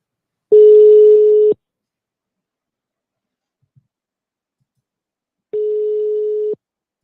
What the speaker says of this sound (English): We'll call them back